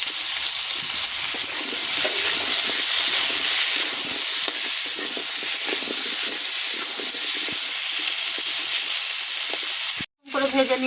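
Bata fish frying in oil crackles and sizzles steadily and close up for about ten seconds, breaks off briefly, then resumes.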